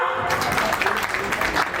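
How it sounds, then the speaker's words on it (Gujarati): Audience applause at a fifth-anniversary celebration for a tractor dealership, a steady wash of many hands clapping at an even, fairly loud level through the whole moment, with a faint hint of voices mixed in. "તો એકવાર જોરદાર તાળીઓ."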